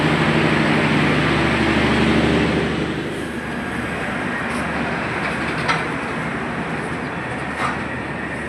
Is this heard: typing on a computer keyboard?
no